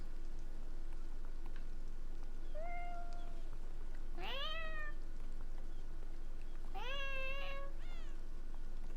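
A person imitates a cat with several rising, whiny meows in a few separate bursts, mid-distance, over a steady background hum while playing the game Beyond Eyes.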